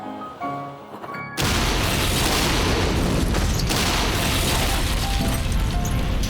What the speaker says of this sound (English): With oxygen, you don't see much of a flame, but there's a massive explosion.